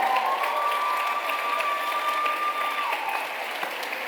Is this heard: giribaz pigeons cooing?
no